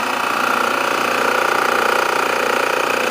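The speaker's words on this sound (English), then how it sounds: "It engages the compressor on here." A Robinair HVAC refrigerant recovery machine runs with its compressor engaged, producing a steady, loud, close mechanical drone with a fine rapid vibration and no pauses.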